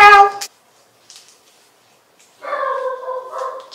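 A dog on a balcony gives a loud close bark, then a faint yip after a pause, and then a longer whiny, whimpering vocal outburst.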